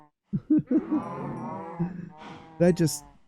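A cow in the Minecraft video game moos three times, each call short and clear, close with nothing behind it.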